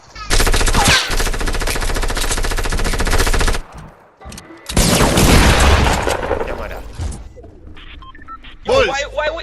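Rapid automatic gunfire in the video game Fortnite, long loud bursts of shots followed by a second volley and scattered booms, with players talking over the action near the end.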